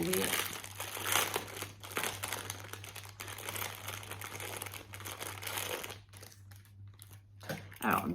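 Crinkly plastic packaging from a Temu haul is torn open with busy, close rustling and crumpling that continues through most of the stretch, along with a faint steady hum, before ending in a few brief rustles.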